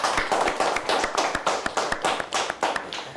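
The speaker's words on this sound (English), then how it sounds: "Let's give them both a nice round of applause." Studio audience at a high school quiz show claps for the two teams, a sparse, uneven patter of individual hand claps rather than a full roar, close and moderately loud.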